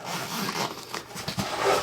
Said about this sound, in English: there's a zipper right here